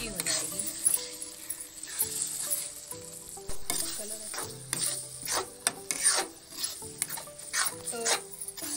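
Crushed potatoes are fried in masala in a pan for an egg gravy, a soft sizzle under repeated scraping and pressing strokes of a spoon, close and fairly quiet.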